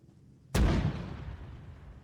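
A single loud, close gunshot from the Arma military game, set in Sicily campaign training, cracks sharply and then trails off in a long decaying rumble.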